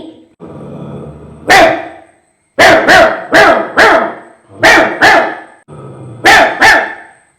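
A person imitates a big dog's deep barks: a low growl, then several loud woofs in quick pairs and triplets, close up.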